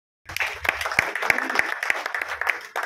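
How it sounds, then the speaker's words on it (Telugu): Audience applause at a Telugu public talk, a steady mass of clapping that starts abruptly and holds, moderately loud, with a few sharper individual claps standing out. "చప్పట్లు పట్టండి"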